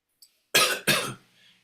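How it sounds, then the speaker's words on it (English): Two loud, close coughs follow a tiny faint sound, with a soft breathy trail after the second one. "I've got a bit of a cough."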